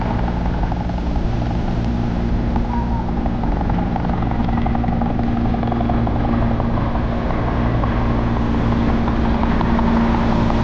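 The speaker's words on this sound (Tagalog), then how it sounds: "So ayan mga kadiskarte, merong helicopter." A police helicopter flies low over a fishing spot on rough seas, its steady, loud rotor thump and engine drone filling the air continuously without fading.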